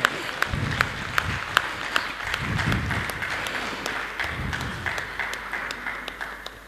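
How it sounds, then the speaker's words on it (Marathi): Audience applause at a felicitation ceremony for a doctor during a Kojagiri gathering of a Marathi theatre group, a sustained patter of clapping hands with sharp individual claps standing out, fading toward the end. "सर्वांनी टाळ्या वाजवायच्यात ह्या सुंदर अशा सत्कारासाठी."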